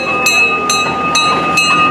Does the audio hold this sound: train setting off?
yes